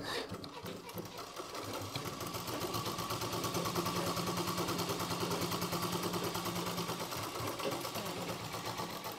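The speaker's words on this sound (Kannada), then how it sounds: "ಇನ್ನೊಂದ್ಸಲ ಹೊಲಿಗೆ ಹಾಕ್ತೀನಿ." A sewing machine stitches a blouse, its needle running in a fast, steady mechanical chatter that holds for several seconds at close range, with a brief voice near the start.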